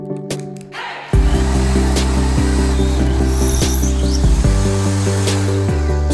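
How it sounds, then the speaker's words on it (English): A screwdriver spins a homemade drill bit made from screws, a loud close motor whine starting after about a second and holding with slight pitch dips as it works. "Now we connect them with clamps, cut off the access, and get a new homemade drill for a screwdriver."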